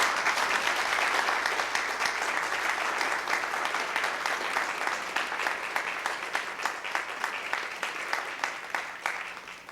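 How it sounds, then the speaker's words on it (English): Sustained applause from an assembled crowd honoring award recipients at a DC Army National Guard military ceremony, steady and full for nearly ten seconds before thinning slightly toward the end. "Let's give all these folks a round of applause."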